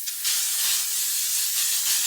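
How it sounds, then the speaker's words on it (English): A face setting spray mists the skin before makeup, giving a steady, loud, close airy hiss that runs about two seconds after a brief first puff. "I'm actually going to spray my face with this first to help control any oils throughout the day"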